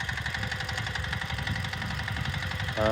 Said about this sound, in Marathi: बघा ट्रॅक्टर चालू आहे मित्रांनो